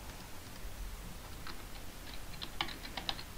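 Keys on a Windows 10 computer keyboard are tapped in a few light, scattered clicks, faint against a steady background hiss.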